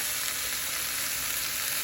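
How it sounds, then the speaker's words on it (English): Steady, dense sizzling of steak searing on a hot grill, loud and close with a constant crackle and no voices. "That's a nice sizzle right there."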